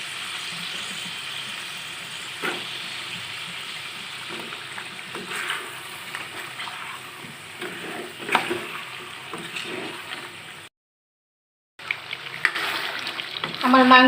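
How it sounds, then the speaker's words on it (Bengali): Potatoes and beef stir-frying in a pan with green chillies, a steady sizzle broken by scraping stirs and utensil knocks, close and moderately loud, with a brief silent gap near the end. "আলুটাকে 5 মিনিট ভালো করে কষিয়ে পানি দিয়ে দিব।"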